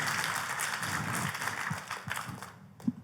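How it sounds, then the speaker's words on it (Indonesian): Congregation applause in a church service in Jakarta, a steady wash of many hands clapping at moderate distance, tapering off near the end with a final single clap. "Tepuk tangannya bagi Yesus Tuhan kita."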